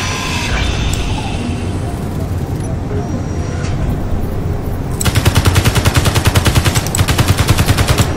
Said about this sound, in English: Let's quickly just grind this